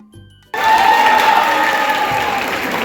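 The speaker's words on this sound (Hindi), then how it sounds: "जोरदार तालियां, जोरदार तालियां।" Loud applause for a dance performance bursts in after a brief quiet start, a dense, close crowd clapping that stays strong to the end.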